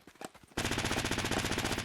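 Automatic gunfire in the video game Fortnite starts abruptly after a brief quiet lead-in, then continues as a loud, sustained, rapid stream of shots.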